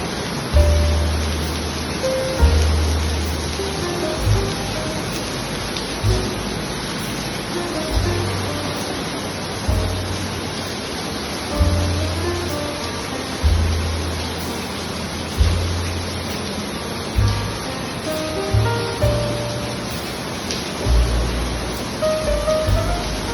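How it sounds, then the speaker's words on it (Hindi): Heavy stormy rain pours steadily through the night in a constant broadband wash, with low rumbling gusts and occasional soft thuds rising beneath it, no voices present. "यहाँ पर बहुत ही तूफ़ानी बारिश थी और रात काफ़ी देर तक ये बारिश होती रही थी"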